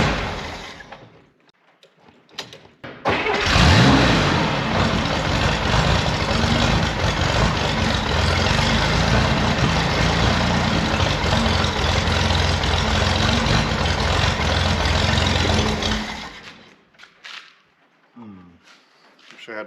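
A vehicle engine cranks and catches after a short pause, then settles into a loud, steady idle that runs for about twelve seconds before cutting off, leaving quieter background sounds.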